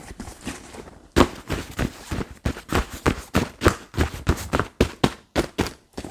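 Close, irregular crinkling and rustling of stiff Ecopak backpack fabric being squeezed and handled, in uneven bursts with brief pauses, no voices.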